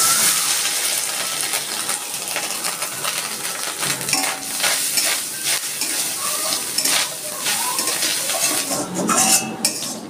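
Grated coconut fries in mustard oil in a wok, with a steady close sizzle under frequent scraping and clinking of a metal spatula stirring against the pan.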